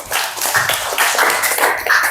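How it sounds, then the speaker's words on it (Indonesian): A classroom of students claps for a classmate, a steady patter of many hands, close and fairly loud, with no talking over it. "Tepuk tangan untuk Madinah"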